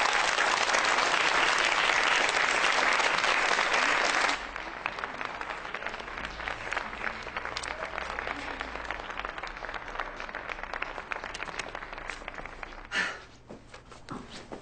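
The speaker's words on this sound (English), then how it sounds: "Round of applause for Dynasty Barry." A round of applause for Dynasty Barry: a thick, loud wash of clapping for about four seconds, then thinner, scattered claps continuing quietly in the background until near the end.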